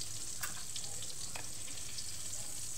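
A breaded eggplant omelette, tortang talong coated in breadcrumbs, fries in oil with a constant crackling sizzle and a couple of light utensil taps, heard alone without talk.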